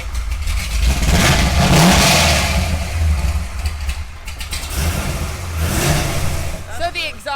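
A Corvette Z06 engine revving loudly up close through an aftermarket valved exhaust, rising and falling through a couple of throttle bursts, with people talking over it.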